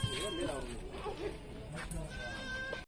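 Goats and their young kids bleating as they are walked past, several short wavering calls close by, with someone talking over them.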